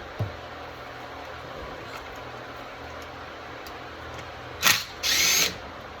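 Power tool briefly driving out the muffler bolts on a Stihl MS660 clone chainsaw during teardown, two short loud whirring bursts near the end after a stretch of quiet room noise with faint ticks.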